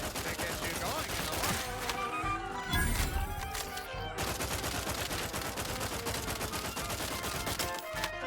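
Rapid gunfire from The Outer Worlds 2 crackles almost without pause, with dense volleys of shots and impacts layered over combat noise and loud throughout. There is no talking.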